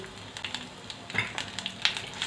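Grated ginger stirred and fried in a pan for bread pulao, with a steady low sizzle and scattered scraping stir strokes, close and fairly quiet, no talking.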